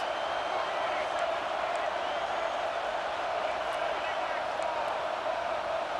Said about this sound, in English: Big 3rd down in the red zone, and this crowd is getting behind this defense.